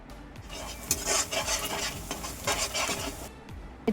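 Onions and green chillies fry in hot oil in a pan, with a steady sizzle broken by repeated scraping strokes of a spoon stirring close by.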